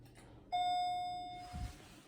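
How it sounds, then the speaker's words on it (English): A hall chime sounds from an MEI hydraulic elevator at a nature center: one clear electronic ding after the call button is pressed, with a sustained tone that slowly fades, followed by a faint thump. "Let's go outside and ring the bell. Listen to that chime."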